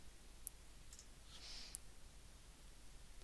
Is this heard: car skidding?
no